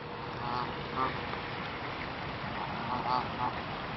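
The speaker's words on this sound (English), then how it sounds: "Here's some ducks." Ducks at Beacon Park in Vancouver Island, giving a few short quacks at intervals against a steady outdoor background hum, fairly faint and not close.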